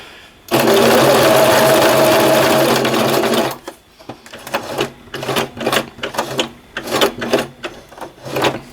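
A sewing machine sews a patch onto loose jersey fabric in one loud, steady run of about three seconds, then gives way to a string of short clicking and rubbing handling sounds.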